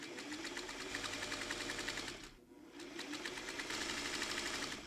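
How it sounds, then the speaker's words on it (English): A sewing machine stitches quilt blocks down a long edge with a scant quarter-inch seam, a fast, steady mechanical chatter that pauses briefly midway before resuming, close and alone without talk. "We're sewing them down the long edge, scant 1/4 inch seam."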